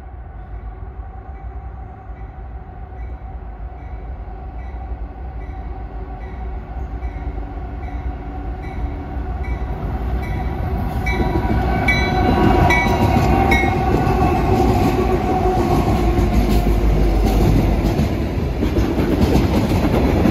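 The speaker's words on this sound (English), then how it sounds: "an eastbound manifest with one of Norfolk Southern's AC conversion locomotives leading the way" An eastbound Norfolk Southern manifest freight led by an AC conversion locomotive rumbles past, its low engine drone and clattering wheels swelling louder as it nears, with no talking.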